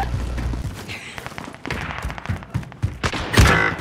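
Gunfire in the Call of Duty: Warzone video game on Rebirth Island, with a rapid run of sharp shots and thumps in close succession, loud and punchy.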